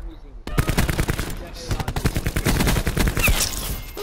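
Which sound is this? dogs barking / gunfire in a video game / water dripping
gunfire in a video game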